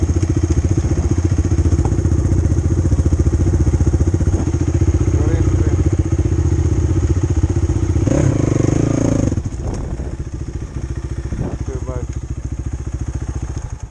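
Motorcycle engine held at steady high revs while climbing a steep slope, loud and close, with a brief clattering thump near the end as the throttle eases, while people talk over it.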